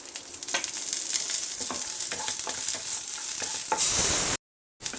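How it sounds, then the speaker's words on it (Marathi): Coconut and onion roasting in oil in a pan, a steady close sizzle with frequent stirring scrapes, swelling louder near the end before cutting out briefly; no voices. "पॅनमध्ये खोबरं आणि कांदा घालायचा आहे भाजायला असं तेल घालायचं आहे भाजायला"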